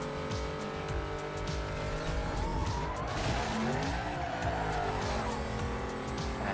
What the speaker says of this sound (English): Oh my gosh, the sound of those engines.